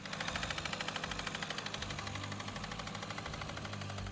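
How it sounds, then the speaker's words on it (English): Car engine running with a rough, clattering diesel-like knock after amateur repair work, a steady rapid ticking pulse throughout at close range. "my car has started sounding like it's a diesel"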